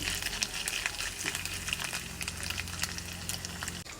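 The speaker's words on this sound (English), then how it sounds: "We'll fry till it gets golden brown." Coconut pieces fry in a pan toward golden brown, giving a continuous dense crackling sizzle at moderate level with faint stirring underneath.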